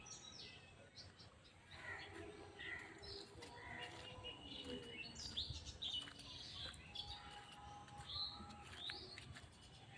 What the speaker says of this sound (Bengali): সকালবেলা শুধু পাখির ডাকই শুনতে পারবেন।